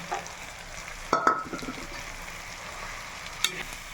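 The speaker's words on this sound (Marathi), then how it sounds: "तवा फ्राय चटणी आहे ही." Toor bean chutney with crushed green chilli, garlic and cumin frying on a tawa while being stirred, a soft steady sizzle with a couple of brief scraping stirs near the middle and another sharp scrape toward the end.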